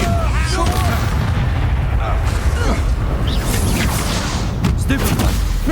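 A Confringo blasting spell in Hogwarts Legacy bursts amid loud, continuous combat din, with booming impacts and rumbling layered under shouted voices.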